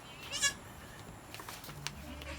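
Newborn goat kids bleat inside a kidding pen on a goat farm, with a clear high cry early on followed by fainter, scattered bleats and rustling at a moderate distance.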